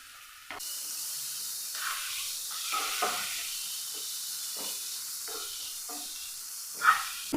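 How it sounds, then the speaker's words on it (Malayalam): Ginger, garlic and green chili paste hits hot oil and sizzles steadily while being stirred in a pan for chicken samosa filling, a close continuous hiss with occasional scraping spikes. "ഇഞ്ചി വെളുത്തുള്ളി പച്ചമുളക് പേസ്റ്റാക്കി എടുത്തതാണ് അതും ചേർത്ത് കൊടുക്കുക"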